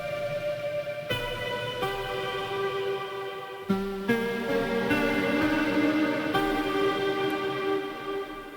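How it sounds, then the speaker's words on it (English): A house organ layered with a dynamic 7-foot grand piano plays sustained, heavily processed chords that shift every second or so, steady and full with no voices. "what I've got here is house organ blended with a dynamic 7-foot grand piano."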